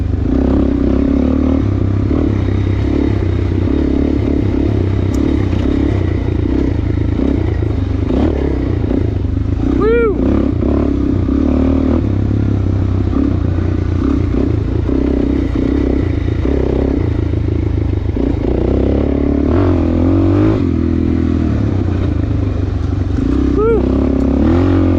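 A Suzuki DRZ400 motorcycle with an aftermarket exhaust pipe is ridden, its engine loud and continuous with rising and falling revs and occasional clattering scrapes throughout.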